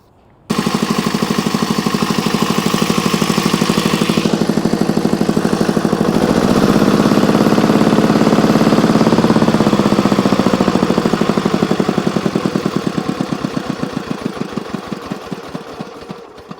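Zubr R180 walk-behind tractor's single-cylinder engine starting up and running steadily after valve cover gasket replacement, a loud rapid knocking putter that swells midway and eases slightly toward the end.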